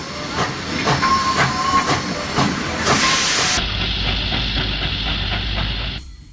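An Illinois Central 2-8-4 Berkshire-class steam locomotive rolls slowly past a siding, rhythmic chuffing gives way to a loud, sustained steam hiss that cuts off abruptly near the end, close by and with no talk.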